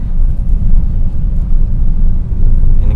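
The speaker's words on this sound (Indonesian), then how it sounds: "Nah dia pindah gigi, dia halus, serut." Honda Jazz RS with an automatic gearbox gathering speed and changing gear, a loud close low rumble that swells and eases smoothly with no harsh jolt, heard from inside the car without talk.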